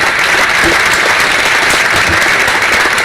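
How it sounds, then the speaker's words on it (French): Dense, continuous audience applause fills a televised school contest show, a loud, even wash of clapping from start to finish with no voices standing out. "Donc elle mérite beaucoup d'applaudissements."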